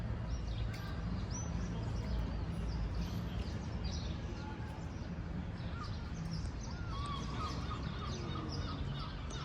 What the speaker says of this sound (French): On entend les mouettes.